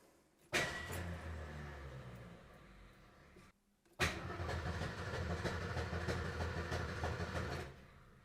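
A car engine cranks and catches, runs rough, then cuts to silence. A second start roars up more loudly with knocking, banging irregularities before it dies away. It is heard up close, with no talking.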